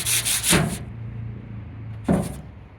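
Wood hand sanded with sandpaper in small spots on a 1977 StarCraft boat: two short, close rasping strokes separated by a pause, with a low mechanical hum underneath.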